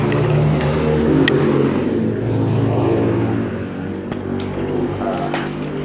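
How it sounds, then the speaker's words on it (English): Noisy motorcycles passing by on a main road outside a home, a loud engine drone with rising and falling revs that fades slightly as the vehicles move on, with no talk. "on the main road, so noisy motorcycles passing by"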